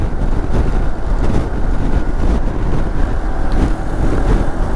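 Moto Morini X-Cape 649 motorcycle cruising at about 70 mph in sixth gear, just under 5,000 RPM, heard as a steady engine drone buried in loud, continuous wind rush.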